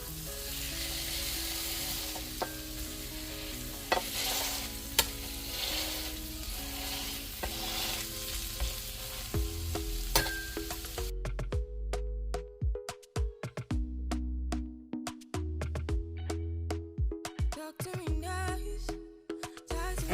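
Smash burger patties fry in olive oil on a hot surface with a loud, continuous sizzle that turns into dense, popping crackle partway through, with no talking over it.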